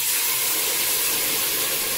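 Tomato coulis poured into a hot pan of golden fried onion for spaghetti bolognese, giving a steady, close, bright sizzling hiss that holds evenly throughout with no talking.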